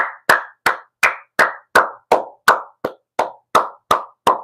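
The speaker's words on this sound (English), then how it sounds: "We got to give the guy a round of applause." About a dozen sharp hand claps from an audience, evenly spaced in a slow, steady rhythm, each with a short ringing tail, loud and close with no talk.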